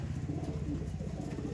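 Low, throaty cooing from Giribaz pigeons rolls on continuously, close and moderately loud, for a short stretch with no talking.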